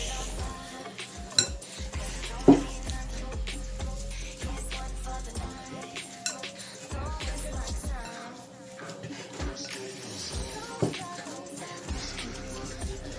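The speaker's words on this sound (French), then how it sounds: "J'espère que vous voyez quelque chose que je suis en train de mélanger." Meatball mixture being mixed in a bowl in a home kitchen, with scattered clinks and knocks of utensil against dish, soft scraping between them and a low hum under the work.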